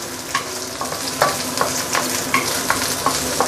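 Fish sautéing in hot oil in a pan for a milky fish soup: steady sizzling and frying with repeated scraping and stirring taps of a utensil, close and fairly loud.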